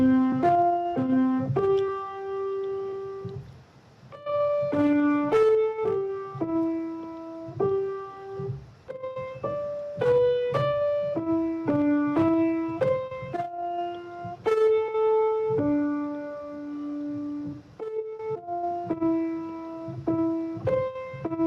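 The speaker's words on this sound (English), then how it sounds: "I played it on the piano and it sounds like this." A piano plays a melody built from the digits of pi, single notes and chords stepping up and down at a moderate pace, clear and close with no voices over it.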